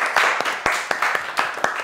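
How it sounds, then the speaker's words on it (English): An audience in a school setting clapping for a group of children, a brisk, close burst of many hands with quick, uneven claps throughout. "Clap for them again."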